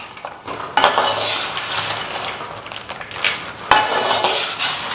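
Banana chips stirred in jaggery syrup in a pan, giving close, busy scraping and clinking of a metal spoon against the pan, with sharp knocks now and then and no voices.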